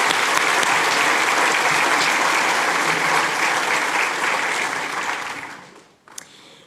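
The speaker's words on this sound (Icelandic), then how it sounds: "Ef við gefum eitt gott klapp til viðbótar." A hall full of people at the 2015 University of Akureyri graduation ceremony gives a long, dense round of applause that holds steady, then tapers off and ends near the close.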